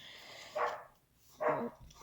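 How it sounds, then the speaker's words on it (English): A dog barks twice, about a second apart, each a sharp mid-range bark heard at moderate distance in an otherwise quiet indoor room. "sorry about my dog if you can hear him or not"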